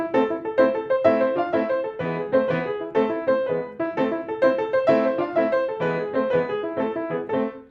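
A piano plays The Wild Rider, a simple beginner-level piece, in brisk, steady detached chords and melody notes that run continuously at moderate loudness with no talk.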